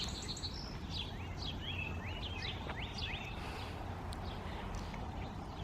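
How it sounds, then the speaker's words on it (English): Birds sing early in the morning in an urban English cottage garden, with a run of bright, rapid chirps and whistled notes, moderately distant, over a steady low background hum. "Listen to those birds."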